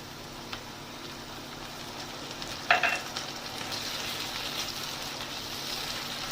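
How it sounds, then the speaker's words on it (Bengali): Onion with ginger-garlic paste frying in a pan for spicy egg pasta, a steady soft sizzle throughout with a brief sharper burst of crackle partway through, close and alone without talk. "পেঁয়াজ আর আদা রসুনের পেস্টটা ভালো করে ভাজা হবে"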